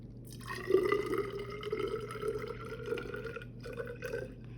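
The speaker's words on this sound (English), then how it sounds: "fill your water up to 50 milliliters" Water poured into a measuring container toward the 50 millilitre mark, a close, quiet trickle with a rising filling tone lasting a few seconds and briefly pausing near the end.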